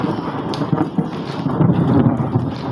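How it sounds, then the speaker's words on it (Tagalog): A tropical thunderstorm with heavy rain: low rolling thunder and a dense rain hiss mixed with wind buffeting the microphone, loud and close throughout. "Boy, thunderstorm is real."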